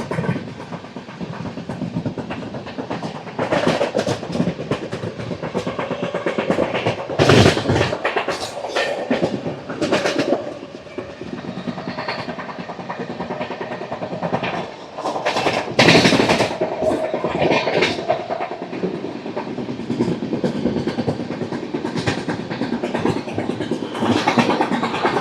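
Coromandel Express 12841 running at speed through a railway station without stopping, overtaking another express: steady loud rumble and clickety-clack of wheels with sharp bursts as carriages pass, continuous throughout.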